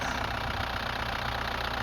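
A cold Hyundai Santa Fe diesel engine idles steadily after sitting unused all day, with a continuous low rumble and a faint clatter. It holds an even level throughout the short stretch, and no one talks.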